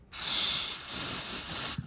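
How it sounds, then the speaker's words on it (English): Liquid sprayed down into small ports on an engine part during wrenching work, heard as a loud, close, continuous aerosol hiss that dips briefly in the middle and then cuts off sharply. "What you typically do is you just spray down in these little ports."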